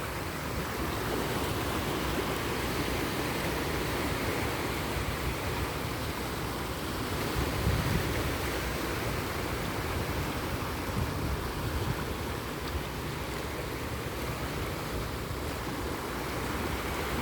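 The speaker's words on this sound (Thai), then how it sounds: "ฟังเสียงคลื่นผ่อนคลายไปในตัวนะคะ" Sea waves wash continuously onto the shore in Hong Kong in the evening, a broad steady surf roar with a slightly louder surge midway, no voices.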